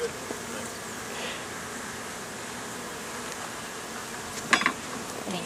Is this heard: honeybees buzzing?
yes